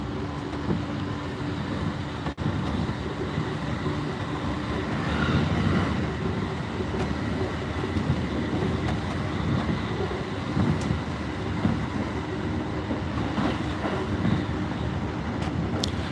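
A Japanese commuter train on the Ikebukuro to Kumagaya line running at speed, around 100 km/h, with a continuous broadband rumble and rattling roar heard from inside, steady and unbroken throughout.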